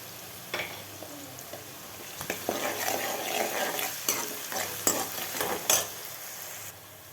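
Onions salted right after going into a pan for a brinjal kuzhambu fry with a soft steady sizzle, broken by scraping stirs and light metallic clinks of a spoon against the pan.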